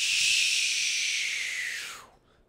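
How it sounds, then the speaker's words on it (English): An airplane sound effect sweeps past as a bright, airy whoosh that slowly drops in pitch and fades away over about two seconds. "That's a plane."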